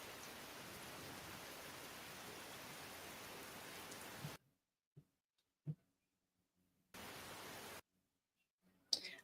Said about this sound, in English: And we'll do rain like always.